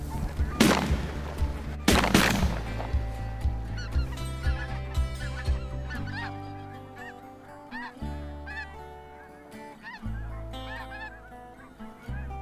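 Geese honk repeatedly at close range during a goose hunt, a noisy overlapping chorus, with two sharp loud bangs near the start and a low droning hum underneath.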